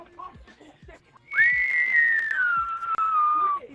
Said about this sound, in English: Why are we whistling?